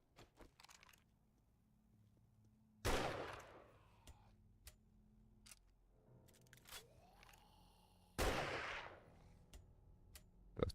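Two separate gunshots in the video game 7 Days to Die as headshots land on a zombie, each a sharp loud crack a few seconds apart amid quiet game clicks and ambient tones.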